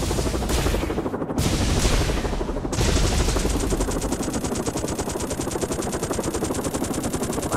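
Continuous heavy gunfire in the Gun Ship Strike video game, a relentless rapid stream of shots with a couple of short pauses early on, loud and steady with no talking.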